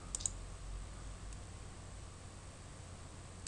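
Quiet computer keyboard clicks as a city name is typed into the City Guide map search, a few sparse taps over a steady hiss of background noise.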